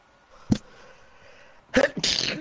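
A person sneezes close by: a short sharp intake, then a pause, then a burst of two loud explosive sneezes.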